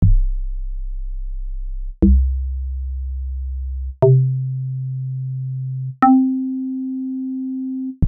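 Four pure, deep FM synth bass notes from Logic's EFM1 sound one after another, C1 to C4, each two seconds long and stepping up an octave, with a sharp click at each attack.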